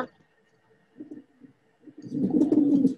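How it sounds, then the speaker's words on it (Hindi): A pigeon coos softly, a few low murmurs followed by a fuller, louder rolling coo close by. "कबूतर"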